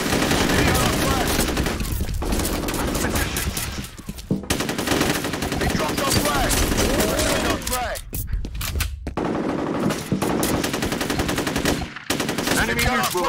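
Dense automatic and rapid gunfire in the multiplayer shooter FEAR Combat, nearly continuous bursts at high volume with brief lulls, mixed with shouted game voice lines.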